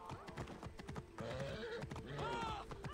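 A horse in the Assassin's Creed Origins video game whinnies loudly twice while its hooves clip-clop in a steady, close rhythm throughout the short stretch.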